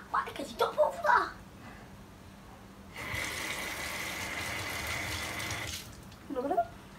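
Hot water running steadily from a kitchen tap, a continuous hissing stream lasting a few seconds, with brief talk before and after it.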